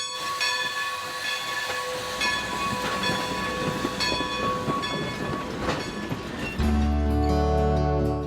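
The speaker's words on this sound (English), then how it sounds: "We've got 3 operational locomotives that we use. All of our locomotives are coal-fired." A coal-fired steam locomotive runs on a Pennsylvania tourist railway with a steady rumbling roll and rail clatter. Near the end the sound shifts to a louder, deeper tone.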